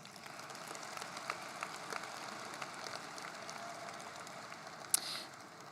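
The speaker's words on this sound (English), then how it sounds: "giving them a round of applause" Audience at a high school graduation ceremony applauds for the graduates' supporters, a sustained wash of clapping from a large crowd with a brief louder burst near the end.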